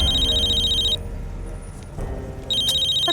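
A telephone rings indoors with bright electronic trilling bursts, one ring cut off after about a second, a short quiet pause, then the ringing resumes loudly and close.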